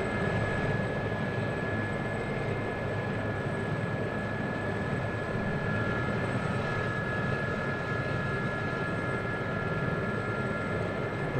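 An SA-342 helicopter in the DCS World flight simulator taking off from a taxiway, a steady, even turbine whine and rotor drone that holds constant throughout with no talk.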